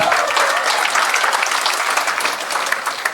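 An audience at a public speech in Maharashtra breaks into loud, sustained applause, a dense close clatter of many hands clapping continuously without pause.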